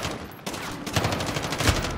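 Gunfire in the Modern Warfare video game's gun game mode, a rapid fusillade of loud, close shots in quick succession after a brief lull, with no talk over it.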